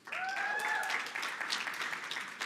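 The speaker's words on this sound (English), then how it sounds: "a round of applause" Applause for debate team members at an anniversary celebration in a hotel hall, a short burst of crowd clapping with cheering, fairly faint and distant, lasting about two seconds.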